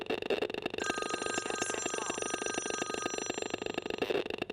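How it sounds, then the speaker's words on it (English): A phone rings with an incoming call, its steady electronic ringing tone repeating throughout, fairly loud against a constant buzzing background hum. "And Jeff, would you try to call my phone and see what happens?"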